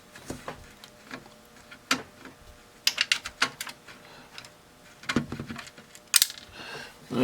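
A small screw on a Sansui AU-9900 vintage stereo amplifier being undone, then dropped into the metal chassis: scattered faint taps and clicks, a few sharper metallic ticks standing out near the end, no voices.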